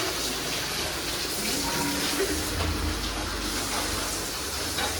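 Water pouring and splashing steadily while vessels are washed in a home kitchen, a continuous gushing flow at close range without talk.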